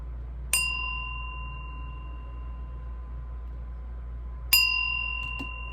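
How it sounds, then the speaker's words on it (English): A meditation bell is rung twice, each strike a clear ringing tone with a long, slowly fading sustain, heard alone over a low steady hum in a quiet room. "I'm going to ring the bell"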